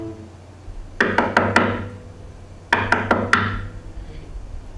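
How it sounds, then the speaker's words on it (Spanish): Two quick sets of four sharp knocks on a wooden door at night, close and distinct, separated by a short pause and ringing briefly after each set, with no voices. "llamaron a la puerta"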